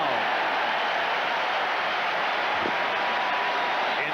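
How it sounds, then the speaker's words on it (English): A packed Philadelphia Eagles football stadium crowd roars in a steady, loud wash of cheering and applause during a 1991 game against the Pittsburgh Steelers, with no clear individual voices. "This Philadelphia crowd reacting to the Eagles' defensive effort."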